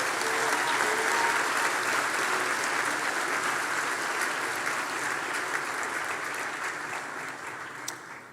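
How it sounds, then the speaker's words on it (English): An audience at a health sciences graduation and pledge ceremony gives nursing graduates a loud, sustained round of clapping that carries on evenly for several seconds before easing slightly at the end. "please give them all a big round of applause"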